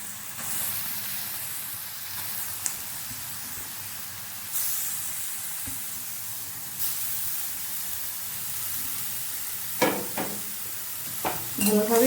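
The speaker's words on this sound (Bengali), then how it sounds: "এবার আমি গ্রেট করে রাখা গাজরগুলো দিয়ে দেবো।" Grated carrots hissing and sizzling in hot ghee in a pan, a steady frying hiss with scattered stirring scrapes and a few sharper clatters of the spoon near the end.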